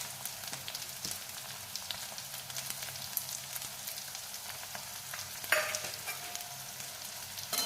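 Onions frying in hot oil in a pan while a potato sandwich filling is made give off a faint, steady sizzle and crackle with a few light stirring scrapes, and no one speaks.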